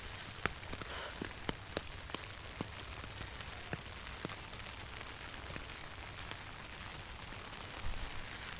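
Steady rain pattering on surfaces along a flooded stretch of the Camino Portugués, a soft continuous hiss with scattered sharper drops ticking throughout, no voices.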